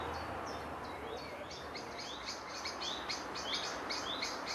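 Birds sing in a woodland on trails near Laxou, with repeated high chirps and short whistled phrases coming steadily over a soft background hiss.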